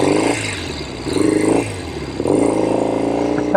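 A 1970 Royal Enfield Interceptor 750 Mk II motorcycle engine revs up and down in several short bursts close to the microphone, its rough twin-cylinder rasp clear and loud.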